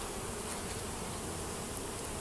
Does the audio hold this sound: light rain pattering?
no